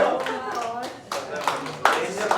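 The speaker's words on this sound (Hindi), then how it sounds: "तालियां बजती रहनी चाहिए।" Audience clapping at an open mic poetry show, a few sharp claps standing out over a speaking voice and background chatter, fairly close and uneven rather than a full ovation.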